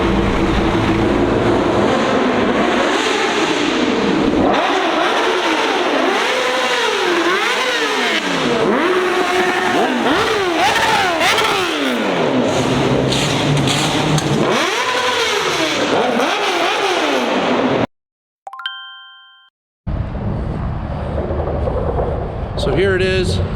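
Traffic at a car meet in Lakeworth: engines rev and accelerate in repeated rising sweeps, cars pass close by and loud, and a brief cutout breaks the noise before the roar of traffic returns.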